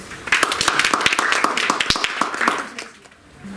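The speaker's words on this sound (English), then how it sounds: "A big applause for her" An audience claps for a student speaker at a secondary-school public speaking contest, a loud cluster of quick hand claps that fades out near the end.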